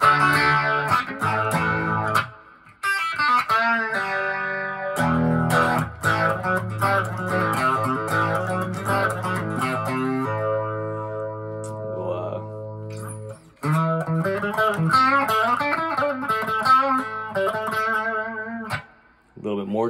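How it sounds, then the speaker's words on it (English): Electric guitar with DeArmond S-73 pickups, played through light distortion: rich, sustained chords and melodic lines, with brief pauses, fairly loud and alone without voices. "The pickups again with just a little bit of distortion."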